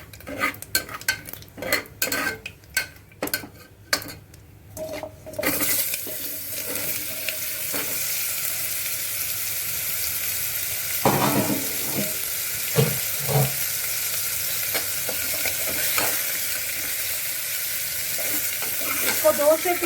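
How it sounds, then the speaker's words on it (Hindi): Kohlrabi frying in a pan with asafoetida, sizzling steadily and loud throughout while a spoon or spatula scrapes and stirs, opening with a run of sharp clinks and taps against the pan before settling into continuous hiss. "2 से 3 मिनट तक हम गांठ गोभी को पकाएंगे।"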